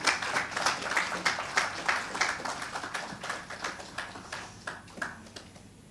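Audience at the Halal In Travel Global Summit 2025 applauds the arriving deputy minister, scattered rhythmic clapping at moderate distance that gradually fades over several seconds.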